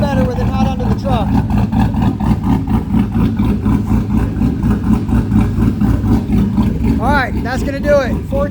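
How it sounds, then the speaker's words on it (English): Close, loud idle of a 2005 Chevy Silverado fitted with side exhaust, a steady throbbing rumble running throughout while someone talks over it. "Alright, sounds way better with it not under the truck."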